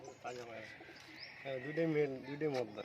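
Several pigeons coo in soft, repeated throaty phrases at close range, rising and falling in short bursts, with someone talking over them in a pigeon sale setting.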